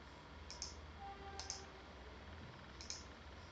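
Computer mouse clicks while drawing a wire in LTspice circuit simulation software, three sharp isolated clicks spaced about a second apart, close and quiet with no talking.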